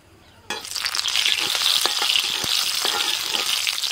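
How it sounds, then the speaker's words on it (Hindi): Spices hit hot mustard oil with a sudden loud sizzle that keeps crackling and spitting steadily, close by, with occasional clinks of a utensil. "डाल देंगे तड़का।"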